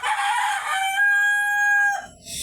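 Fayoumi chickens on a farm, a rooster crowing a long, loud, sustained call up close, followed by a short burst of clucking at the end.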